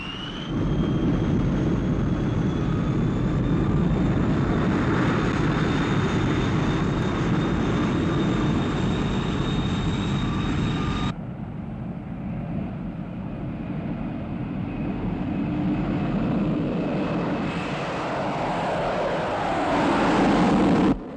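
Propeller aircraft engine roaring steadily at close range during a night takeoff at an airfield, with a sustained loud drone and a high whine, dropping in level midway, then swelling again toward the end.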